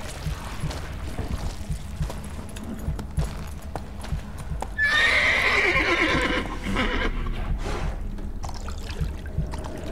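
A horse in The Witcher 3 whinnies loudly mid-clip over steady clip-clop hooves and a trickling, pouring water-like sound, with a continuous game ambience underneath.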